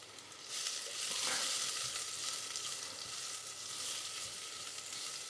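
Carrot or courgette going into a hot pan for a warm spiced potato salad, sizzling and frying loudly and steadily throughout with a brief stir in the middle.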